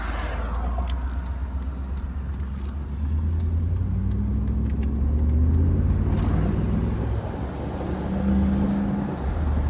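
Low, rumbling idle and gentle revs from a Mercedes R129 500SL V8 with a muffler delete, driving top down; a continuous throaty drone with a couple of swells in engine pitch, fairly close and with no talk over it.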